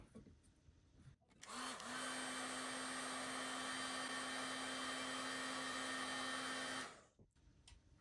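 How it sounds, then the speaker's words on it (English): A heat gun blasts hot air onto a solder joint during a HID-to-halogen headlight conversion: a steady, loud blowing whine with a held tone that starts abruptly, runs about five seconds, then cuts off. "We're gonna use the really hot part of this solder gun, this heat gun, and it should just heat everything up immediately."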